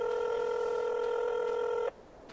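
A steady electronic phone tone holds for almost two seconds and then cuts off, placing a call in a Farming Simulator 22 game, clear and alone.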